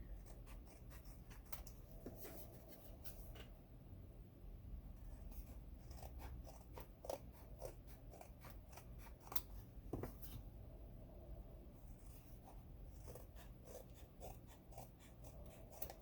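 Scissors trimming excess paper while making a handmade notebook, a quiet close run of repeated crisp snips and soft paper rustles over a faint background hum.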